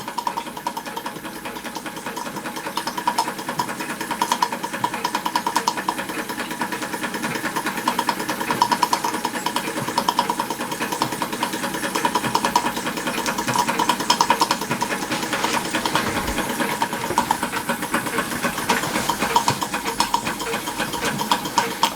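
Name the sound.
Stirlingkit Retrol SE-02 model steam engine running Empire pump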